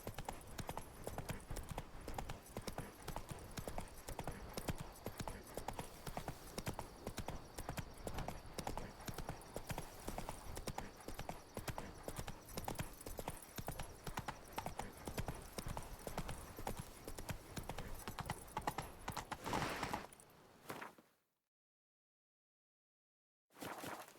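Steady, rapid clip-clop of horse hooves as Roach travels in The Witcher 3: Blood and Wine, a continuous rhythmic gait over ambient game sound that cuts abruptly to silence near the end.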